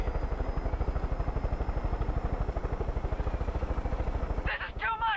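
A helicopter in Far Cry 5 drones nearby with a steady, fast rotor chop that stays loud and even throughout, then cuts off abruptly into a brief voice at the end.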